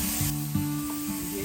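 Steaks sizzle on a hot grill with a quiet, steady hiss and a few soft crackles, alone without talk.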